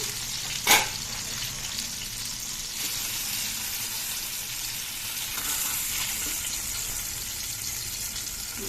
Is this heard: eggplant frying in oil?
yes